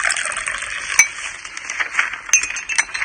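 Light clinks of cutlery against dishes, a few sharper chimes standing out over a steady busy clatter, close and fairly loud.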